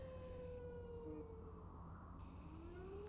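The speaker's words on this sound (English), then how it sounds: "Sirens are going off in Wakota" Emergency sirens wail in the town of Wakota during a storm, faint and distant, their rising and falling tones drifting over a low steady rumble.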